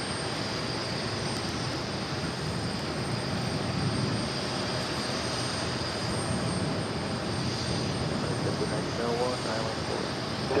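A jet airliner roars steadily at JFK airport, a broad continuous engine rumble with a thin high whine, heard from a distance without letup.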